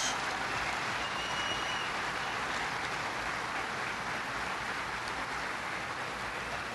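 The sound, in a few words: audience applause for American soldiers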